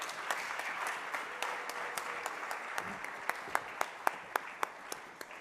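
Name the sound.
audience applauding panelists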